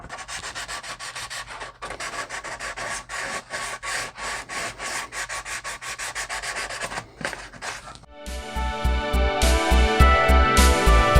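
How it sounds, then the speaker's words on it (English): Steady back-and-forth rasping of 320-grit sandpaper wrapped around a block, scrubbing an RC car body, close and rhythmic, switching near the end to a louder, harsher and faster scratching stroke. "this is a piece of 320 grit, and I'm going to start sanding the next part of the body"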